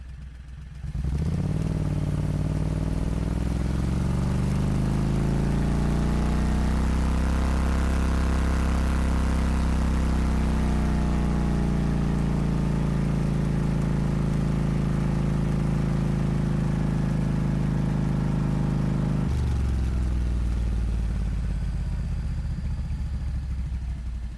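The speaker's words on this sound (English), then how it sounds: "we have a lawnmower engine propelling us" A small car powered by a 670 cc Predator lawnmower engine drones steadily with a buzzy rattle, rising slightly in pitch as it accelerates, then cutting off abruptly near the end.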